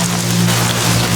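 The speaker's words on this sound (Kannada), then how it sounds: "ಅವತ್ತು ಜೋರು ಮಳೆ." A dense, even wash of heavy rain falls close by, steady and loud for about a second with no pauses and no voices.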